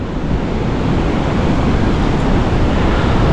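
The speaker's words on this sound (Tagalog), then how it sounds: "Grabe, lakas. Lakas ng alon." Strong sea waves during a typhoon at Bucana, pounding surf and roaring water with heavy wind buffeting the microphone, loud and continuous without a break.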